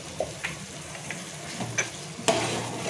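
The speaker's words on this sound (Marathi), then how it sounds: "त्याच्यामध्ये मी जी भाजी शिजून घेतलेली आहे, शेवलाची भाजी, ते टाकून घेते." Cooked sheval wild vegetable is stirred into sizzling masala in a pan, with a soft steady fry under scattered scrapes and clicks of the spoon against the pan.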